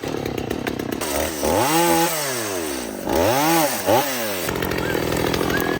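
A chainsaw runs loudly up close, its engine revving up and down in repeated surges as it bites into wood, then settling back to idle.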